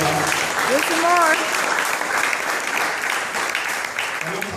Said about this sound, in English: We just need to clap on that.